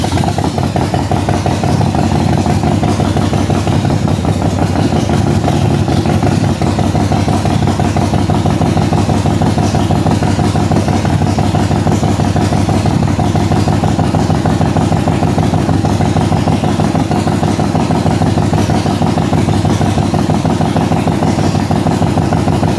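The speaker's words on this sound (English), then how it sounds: "now what I'm gonna do is I'm gonna turn the motorcycle on" A motorcycle engine runs with the choke pulled out, giving a loud, steady idle close by with a continuous mechanical clatter for over twenty seconds. No change in rhythm or speed is heard.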